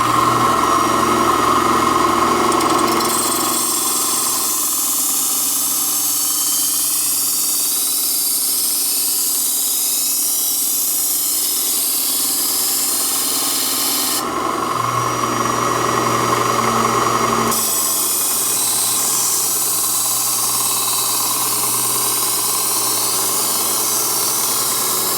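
Work Sharp electric knife sharpener grinding a knife blade, a loud continuous motor whir with gritty abrasive hiss that shifts in tone as the blade passes on each side.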